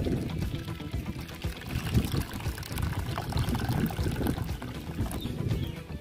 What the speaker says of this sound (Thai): เมื่อเราใส่น้ำร้อนลงในภาชนะเสร็จเรียบร้อยแล้ว